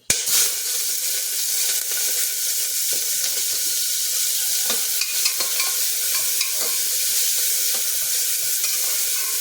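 Onion, ginger, green chilli and garlic sauté in a pan with a continuous, fairly loud hissing sizzle and a few faint stirring ticks, heard alone.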